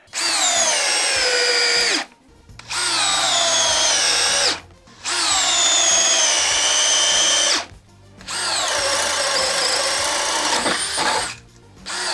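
An Atomic cordless power drill runs in four separate bursts of steady, high whirring, each lasting two to three seconds with brief silent pauses between, loud and close with no talking.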